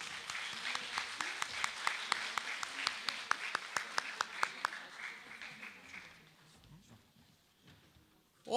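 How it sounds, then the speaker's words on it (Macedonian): Audience applause at a nursing week ceremony, a dense burst of clapping from a crowd that fades out over several seconds, ending with a brief sound at the close. "Еден аплауз за нејзе, ќе ве замолам."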